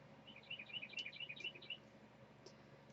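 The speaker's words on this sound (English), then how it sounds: "I don't know if you can hear that bird on the audio or not." A single bird sings outside an open window, a quick run of bright chirps repeating for about a second and a half, then a couple of faint calls, under a low steady indoor hum.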